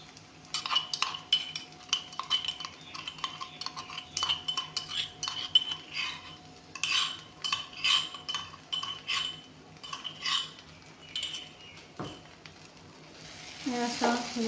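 Crushed ginger and chili go into a curry in a pan: repeated metal spoon clinks and scrapes over a low sizzle, with a brief voice near the end.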